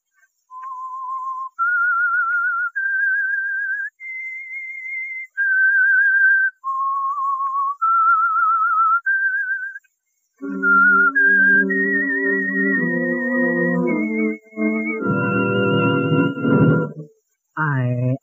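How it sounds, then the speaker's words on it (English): Whistled theme signal of the radio drama The Whistler: a lone, clear whistled melody of sustained notes, followed by an orchestral continuation of the same eerie tune with the whistle riding on top. "That whistle is your signal for the whistler."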